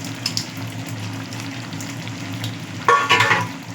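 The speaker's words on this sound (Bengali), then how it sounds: "নারকেল যে পেস্ট করে রেখেছিলাম সেই পেস্টটা দিয়ে কিছুক্ষণ মিডিয়াম আঁচে রেখে নাড়াতে থাকবো" Coconut paste cooking in a pan over medium heat for a prawn curry, a continuous sizzle with stirring scrapes that grows louder and brighter near the end.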